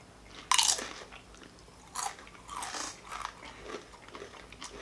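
Nachos are chewed close up, with a sharp crunchy bite followed by several softer crunches and chewing sounds at uneven intervals, with no talking.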